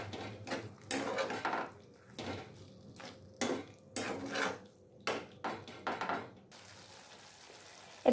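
Utensils scrape and clatter against a pan while cashew-poppy seed paste is stirred into mushrooms for a mushroom posto, a run of irregular metallic knocks and scrapes, fairly close, with no talking.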